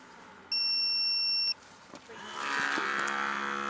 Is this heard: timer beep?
yes